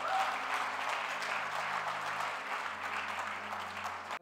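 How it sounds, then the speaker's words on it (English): Church congregation clapping together as a clap offering, a steady dense wash of applause filling the room for several seconds before cutting off. "let's give the Lord a clap offering"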